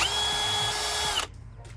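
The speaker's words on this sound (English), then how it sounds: "Here's our Milwaukee drill with our scuff ball." A Milwaukee cordless drill fitted with a wire scuff ball whirs at high speed with a steady whine, scuffing a car's brakes, then cuts off abruptly, leaving a brief rattle.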